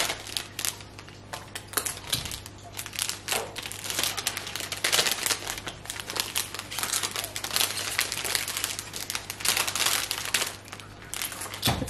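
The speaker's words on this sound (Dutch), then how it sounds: "Voor de zekerheid doe ik er al altijd eventjes een beetje plastic omheen." Plastic foil crinkles and rustles as it is wrapped around the side of a cake and fixed with tape, giving close, irregular crackling bursts over about twelve seconds with no talking.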